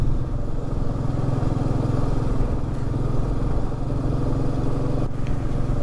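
A group of motorcycles rides together on the mountain road from Zojila to Kargil in Ladakh, their engines droning loud and steady from close by with a constant rumble throughout.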